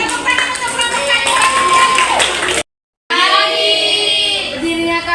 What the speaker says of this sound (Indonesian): tepuk tangan untuk kelompok kami